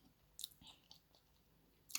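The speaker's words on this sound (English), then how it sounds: "We chew it." Hard fried chicken leg being chewed and bitten during a Nigerian rice-and-beans meal, a few crisp crunches and soft mouth sounds spaced apart, close and fairly quiet.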